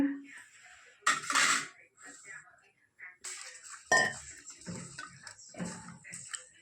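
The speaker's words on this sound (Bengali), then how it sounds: "চাল আর ডাল ধুয়ে নিচ্ছি" Rice and lentils being washed in a pot, with scattered clinks, knocks and scraping taps of grains and metal, irregular and close by, separated by short quiet gaps.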